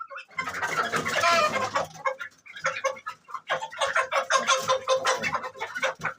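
Caged hens kept for eggs cluck and squawk busily up close, calls overlapping in excited bursts from start to finish.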